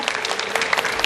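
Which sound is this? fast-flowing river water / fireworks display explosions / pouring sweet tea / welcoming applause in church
welcoming applause in church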